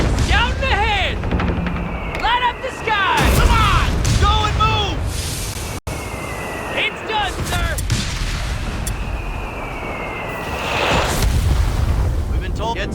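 Bombs and gunfire crash through a busy Company of Heroes 3 4v4 battle, with repeated loud blasts and rattling shots layered under game voices and radio chatter.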